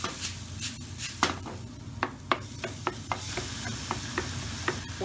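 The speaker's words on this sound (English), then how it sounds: "Now mix that well through." Beef mince being stirred with ground chilli and paprika in a frying pan, with a steady soft sizzle under repeated scraping and clicking strokes of the utensil against the pan.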